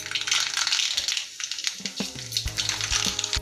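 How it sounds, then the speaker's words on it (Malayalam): Mustard seeds go into hot sunflower oil in a pan, raising a close, loud sizzle and crackle with scattered sharp pops and clinks. "കടുക് ഇട്ട് കൊടുക്കാം."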